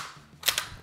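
ASG CZ-P09 airsoft gas blowback pistol fires one shot, a sharp snappy pop followed quickly by the metallic clack of the slide cycling back and forward, heard close and alone.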